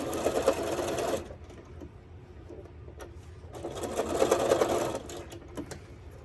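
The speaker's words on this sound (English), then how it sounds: "I'm just gonna sew these 2 pieces together." Two bursts of a sewing machine stitching two pieces of dust mop fabric together, each a close, rapid mechanical whir, separated by a quieter pause.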